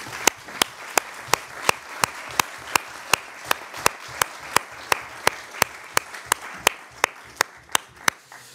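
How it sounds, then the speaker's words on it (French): At a municipal council meeting in a restored town hall, one person claps in a slow, steady rhythm, each sharp clap distinct over a quiet room murmur. "Je pense qu'on peut l'applaudir."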